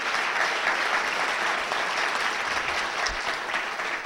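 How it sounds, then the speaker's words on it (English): Steady, dense audience applause fills a stand-up comedy club for the whole stretch, loud and close with no pauses. "Give them a round of applause."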